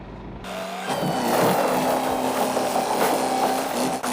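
A battered Lamborghini Miura rolls down a steep hill for a film stunt, its engine and tires making a loud, sustained roar that starts abruptly after a brief near-silence and holds steady for several seconds.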